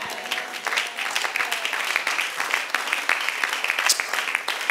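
A church congregation claps during a faith service, a scattered, uneven patter of many hands at moderate distance, with sharper individual claps standing out over the crowd.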